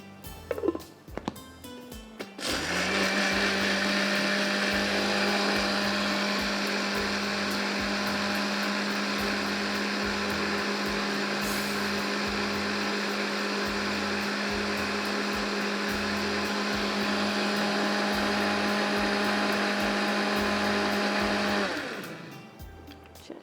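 A kitchen blender whirs steadily for about twenty seconds, mixing flavored yogurt milk with ice and sugar, a loud close motor drone that starts abruptly and winds down at the end, no talking.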